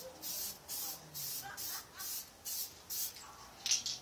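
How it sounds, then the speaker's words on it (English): Short bursts of spray paint laid as a light coat onto an RC car body, about seven evenly spaced hissing passes, close and fairly quiet, with no talking. "I'm going to give it a light coat."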